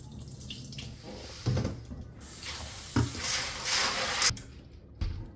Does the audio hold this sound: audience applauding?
no